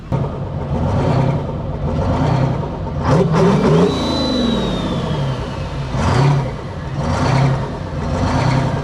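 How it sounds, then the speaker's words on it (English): A restored 1946 Bedford truck engine at an air show revs in repeated swells over outdoor rumble, with a whining pitch sweep partway through and several surges rising and easing. "1946, I think, Bedford truck."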